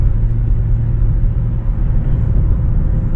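McLaren 570GT engine heard from inside the car while it cruises at moderate road speed, a loud, steady low rumble mixed with road noise and no voices.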